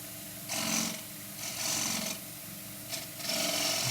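Woodturning gouge taking short arcing cuts on the foot of a wooden bowl spinning on a lathe, raspy scraping bursts of about half a second, repeating at irregular intervals over a steady motor hum.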